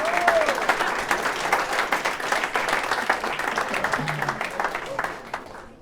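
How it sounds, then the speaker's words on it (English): Steady applause from an audience fills the whole stretch, dense clapping at an even level that tapers slightly toward the end. "Let's give Nicole a big round of applause as well."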